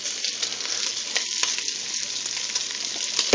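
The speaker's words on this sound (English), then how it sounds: "that bacon's sounding good" Bacon frying in a pan gives a loud, continuous crackling sizzle with dense spitting pops, heard up close and alone.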